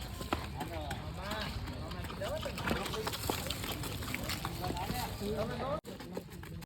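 Rhythmic clopping of several Kathiyawadi horses' hooves passing nearby in a procession, mixed with people talking loudly over the steady clatter.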